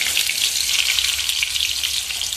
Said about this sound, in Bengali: পেঁয়াজ দিচ্ছি এখন।